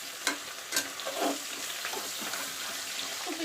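Mutton frying with potatoes in a pan, a faint sizzle under scraping stirs and a few sharp clinks of the utensil against the pan.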